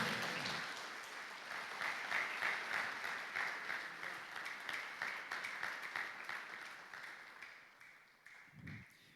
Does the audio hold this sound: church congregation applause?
yes